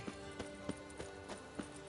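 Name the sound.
horse trotting and whinnying in video game The Witcher 3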